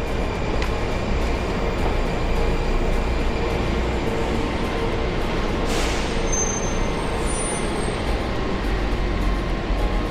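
An older Washington Metro train bound for Glenmont, a loud continuous low rumble and roar of the railcar with a brief hiss like an air brake partway through, and no talking.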